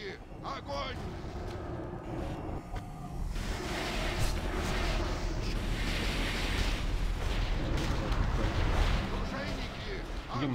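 Cannon fire during a ship battle in an online role-playing game raid, a continuous rumbling barrage of booms and blasts with players talking over voice chat throughout.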